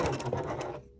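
A sewing machine stitches a tote bag made from upcycled denim jeans, a short close-up whir of rapid stitching that stops abruptly after about a second.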